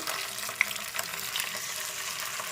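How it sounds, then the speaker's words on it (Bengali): Ginger and green chili paste stirred with a little water in a frying pan, a close, steady sizzle with soft scraping of the spoon, no talking. "একদম অল্প পরিমাণে একটু জল মিশিয়ে নেড়ে চেড়ে নিচ্ছি"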